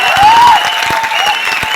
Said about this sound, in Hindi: तालियां बढ़िया से बजाओ